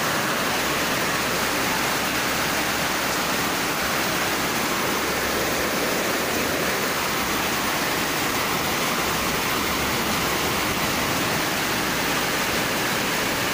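Afternoon rain after a hot day falls in a steady, heavy wash of broadband noise, continuous and close, with no talking and no breaks.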